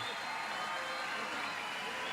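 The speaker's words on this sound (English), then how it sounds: "Vamos a darle un aplauso para una tremenda pelea" A boxing arena crowd at the Mosley versus Cano bout keeps up a steady, broad din of cheering and applause after the decision, a constant wash with no pauses.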